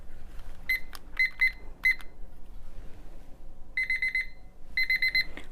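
A simple digital kitchen timer sounds its alarm, a loud, close, shrill electronic beep. The beeps come in quick repeated clusters separated by short pauses, over a faint room background.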